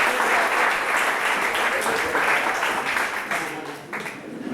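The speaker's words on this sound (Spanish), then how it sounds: "Dense un doble aplauso más" A congregation applauding at a Christmas-season church service; dense, loud continuous clapping throughout, tapering slightly near the end.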